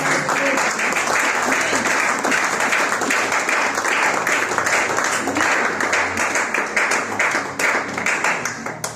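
A church congregation at a Sunday service claps and applauds together, a dense, loud, continuous burst of many hands that tapers slightly toward the end.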